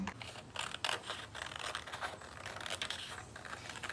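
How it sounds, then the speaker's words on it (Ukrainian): Scissors cut a paper shape along a traced pencil contour for a children's turtle craft, making a steady run of crisp snipping and rustling strokes close up. No one speaks during the cutting. "Після цього беремо ножиці і вирізаємо по контуру."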